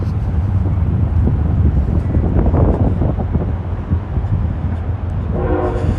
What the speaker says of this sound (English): and you can hear it, that's the train coming through.